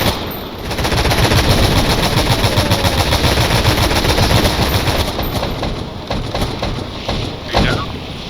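Sustained automatic gunfire from an aircraft making a strafing run on an air carrier in the Stormworks game, a loud continuous rattling burst that slowly fades, with people talking over it.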